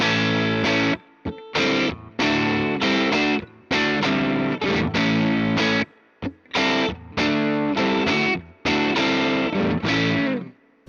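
Distorted electric guitar through a cranked Vox amp plays loud chopped chords and riffs with short pauses between phrases, a gritty, saturated tone with no voices.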